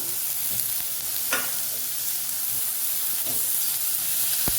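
Wild mountain greens being stir-fried in a hot pan, a continuous sizzle and hiss with occasional scraping strokes of a spatula against the metal, steady and close.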